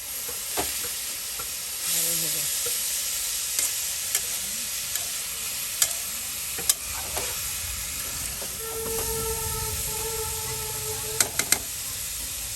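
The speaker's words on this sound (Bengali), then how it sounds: "লাল শাক ভাজি।" Red amaranth greens fry in a pan with a steady close sizzle, broken by sharp clicks and scrapes of stirring, while faint tonal background sounds drift in toward the end.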